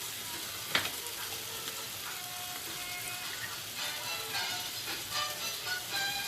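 Bananas and mango frying in butter with honey, a soft steady sizzle through the pan with one sharp utensil knock early on and occasional stirring scrapes, no voices.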